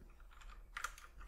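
Computer keyboard typing, a quiet run of scattered keystrokes with a brief denser burst near the end, close but faint.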